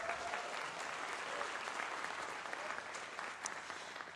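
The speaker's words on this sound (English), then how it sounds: "Once again, please give a big applause." An audience applauds at a leadership series presentation, a faint but continuous spread of many hands clapping that holds steady for the whole stretch, heard alone without speech.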